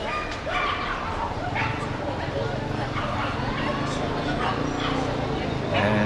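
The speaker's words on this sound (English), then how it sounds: "So you can see this is a very popular dog park." Dogs bark and yip at an off-leash dog park in Mexico City's La Condesa neighborhood, with repeated short barks scattered through a steady outdoor crowd murmur and background voices.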